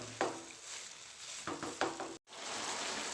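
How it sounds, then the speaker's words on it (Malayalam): Grated carrot and sugar with coconut being stirred in a hot pan, giving a soft steady sizzle with a few brief scraping strokes and a short dropout, fairly quiet and without speech. "ഇനി ഇത് രണ്ടും കൂടെ നന്നായി ഇളക്കുക."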